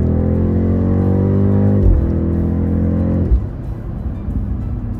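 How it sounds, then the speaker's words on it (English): A BMW X6 M60i engine accelerating: a steady, loud, low drone that climbs through the gears, with a brief break at each shift and a quieter, rougher tone after the second one. "I have to admit, this BMW X6 M60i does sound suspiciously good."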